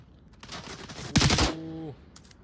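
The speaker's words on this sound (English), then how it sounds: "Shooting at it. Mattress making a little bit of shooting noises" Gunfire in the Onward VR shooter, a rapid burst of automatic shots rising to a loud, dense cluster, followed by a ringing tone and faint distant shots.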